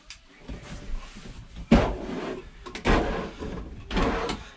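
Three drawers in an RV bathroom vanity of a Montana 3791RD fifth wheel slide open and shut, each giving a close wooden knock and rumble in a steady sequence with no talking.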